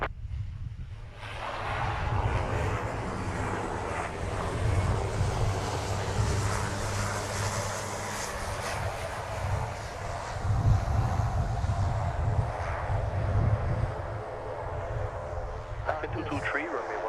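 Frontier Airlines passenger jet at Princess Juliana (SXM) airport on St. Martin, a sustained roaring jet engine rumble with wind, heard from a moderate distance, with a person talking over it throughout.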